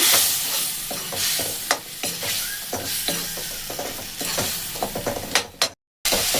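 Turmeric and ground spices sauté in hot oil with tomatoes for a cauliflower khichuri, giving a steady close sizzle broken by frequent sharp spatula clicks and scrapes from stirring, cutting out briefly near the end.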